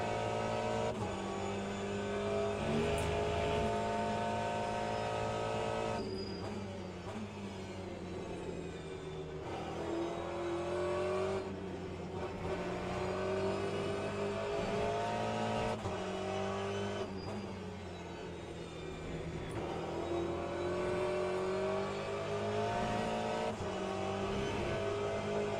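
Race cars, among them a Porsche, run in the Le Mans Ultimate racing game, with steady engine drone rising and falling through gear changes over a sustained stretch, close and continuous.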